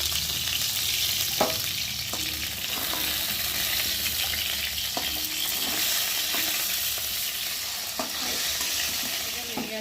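Oil sizzles and crackles steadily as fish fries in a pan, with occasional sharp pops and faint scraping throughout.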